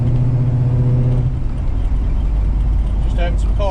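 An old car's engine runs strongly while driving, a loud steady low rumble with road noise filling the whole stretch, as the car pulls slightly to the left and has carburetor trouble.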